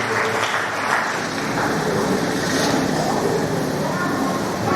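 A congregation at a Christian healing service applauds together, a dense, continuous wash of clapping that holds steady for the whole stretch without a break.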